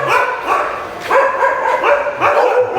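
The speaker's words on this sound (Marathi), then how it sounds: "कुत्रे भुकायला लागलेले आहेत." Several dogs bark in repeated loud bursts at a crowded village railway stop during a train trip, the yaps coming in quick clusters about every half second and close by.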